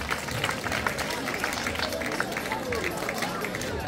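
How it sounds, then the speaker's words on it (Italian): Applause and cheering from a crowd greeting a football club's first team, Follonica Gavorrano 2024-2025, at a squad presentation, a dense steady roar of clapping that runs throughout, with voices mixed in. "Grande applauso, mi raccomando"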